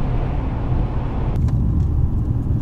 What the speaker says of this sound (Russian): Вот я особо мотора не слышу, я слышу только шум этих колес.